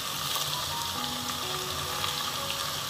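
Ginger garlic paste and tomato sautéing in hot oil for a chicken gravy, giving a steady, dense sizzle that stays even and close throughout with no talking.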